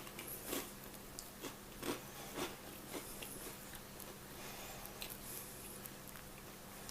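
Crunchy garlic and basil grissini breadsticks being bitten, a few sharp crisp snaps spaced apart over quiet chewing, close and fairly faint with no talking.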